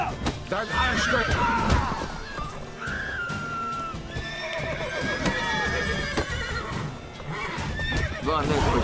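A horse in the video game The Witcher 3 gallops with steady clip-clop hoofbeats and whinnies loudly, mixed with game sounds and someone talking over it throughout.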